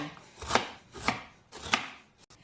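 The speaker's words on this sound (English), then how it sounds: "I want to cut it now." A knife cuts garlic, onions and ginger on a board in three sharp, evenly spaced chops about half a second apart, close and crisp, with no talking.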